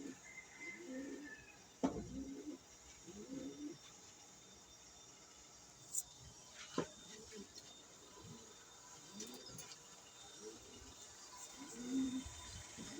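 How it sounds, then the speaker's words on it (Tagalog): Pigeons cooing in a fancier's loft, soft repeated low coos spaced every second or two, fairly faint, with occasional clicks and knocks from the birds moving about. "Ayan naman ang ating ibon na si Berta."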